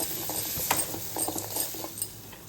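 A spoon stirs a lemon rice mixture in a pan on the stove, a soft scraping and light clinking at a steady pace, close and fairly quiet with no voice.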